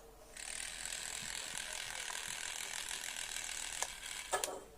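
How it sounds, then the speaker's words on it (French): A Battletron PS4 controller vibrates with a steady, buzzy mechanical rattle that runs for several seconds and ends in a couple of sharper clicks. "elle fait un bruit un peu bizarre quand même quand elle vibre"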